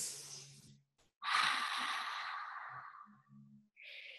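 Slow, deep breaths in a guided breathing exercise: a long breathy exhale, then a louder sustained breath with a soft voiced hum underneath, ending in another breath, all close and unaccompanied by words.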